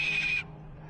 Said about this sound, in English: You know how parrots, they mimic the voice that they hear? Look at the screams, the high-pitched screams.